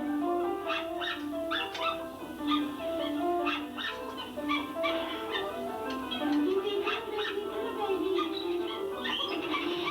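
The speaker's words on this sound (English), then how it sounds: "yap, yap, yap, barking louder and louder as that goes on." Several dogs yap and bark repeatedly from a played recording, their rapid overlapping barks and whimpers growing more insistent over ten seconds, with no talk over them.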